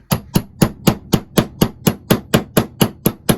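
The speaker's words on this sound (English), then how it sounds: "I've got a socket here, it's the right size to the edge, so I'm just going to tap it" A metal socket hammered to tap a crank bearing into an Echo backpack blower housing, thirteen sharp evenly spaced knocks, close and loud with no talk.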